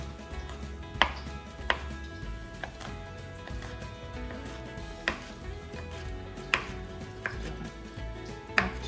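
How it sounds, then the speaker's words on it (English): A big knife finely chopping pickles on a cutting board: sharp, close knocks land irregularly, about nine of them, over a soft, steady background with no talking. "I'll use the bigger knife. You just want to get these cut up really finely."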